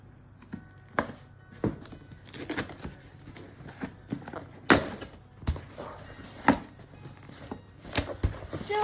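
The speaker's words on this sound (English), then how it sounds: "I'm going to lift the lid away from the box" A cardboard box lid is lifted off a box holding silicone kits, giving scattered close scrapes, taps and rustles with a few sharper knocks and irregular pauses, and no talking.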